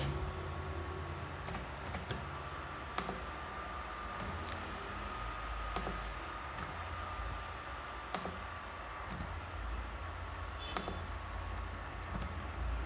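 Keys on a computer keyboard are struck irregularly as HTML and CSS code is entered, close clicks and taps over a steady background hiss, with no voices.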